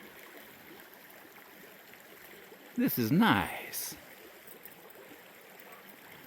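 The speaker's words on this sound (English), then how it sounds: "I love the sound of running water." A small stream runs with a steady, soft trickle and gurgle outdoors, with a brief spoken voice briefly louder in the middle.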